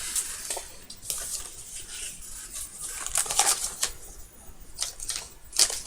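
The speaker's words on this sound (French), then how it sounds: "J'enlève le papier." Paper peeled off a roll at close range, with faint, irregular crinkling and tearing rustles in short bursts over a quiet background.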